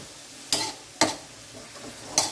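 Ground pork sautéing in a pan for ginisang batong, with a few distinct stirring scrapes at a slow, uneven pace over a faint, steady frying hiss.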